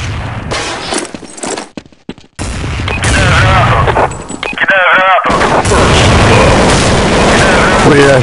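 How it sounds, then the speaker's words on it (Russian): Loud, booming grenade blast in the game Counter-Strike 1.6, with dense gunfire and crackling combat noise around it and a brief silent gap before the blast. "Кидаю гранату."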